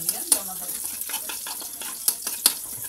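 Cooking oil sizzling in a pan, a soft steady frying hiss with scattered crackles and a few sharp pops, close and moderately quiet, with no talking.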